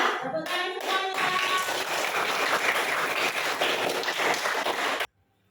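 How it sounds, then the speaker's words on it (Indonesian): A group of children and their teachers claps in a classroom, a full, close burst of hands mixed with a few young voices that cuts off abruptly. "Tepuk tangan semuanya."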